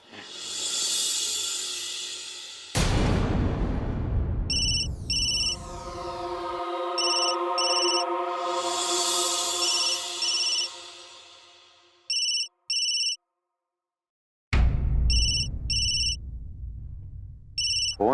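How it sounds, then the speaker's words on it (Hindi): A telephone ringtone plays in repeated electronic bursts with gaps between them, clear and fairly loud in a quiet room, with no voices. "फोन बज रहा है बेटा, उठा ले।"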